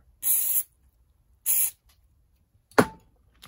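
Two short hissing bursts from an aerosol lubricant spray can on a Tamiya Mini 4WD car, followed by a brief clunk.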